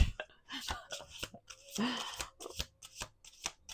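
Close, crisp shuffling of a tarot deck in a quick series of papery bursts and slaps, with a brief soft vocal sound midway.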